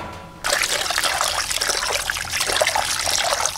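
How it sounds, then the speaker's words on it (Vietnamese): Squid marinated in ginger wine is rinsed under running water, a steady close trickle and splash of flowing water that starts abruptly and continues without pause, with no talking. "bây giờ mình rửa xả ra khử cái mùi tanh"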